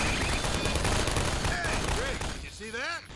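Dense, sustained gunfire in Half-Life 2: Episode 2 roars through a tunnel battle, loud and unbroken for over two seconds before easing, with warbling alien or electronic tones sweeping over it.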